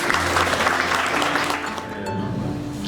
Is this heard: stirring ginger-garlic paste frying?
no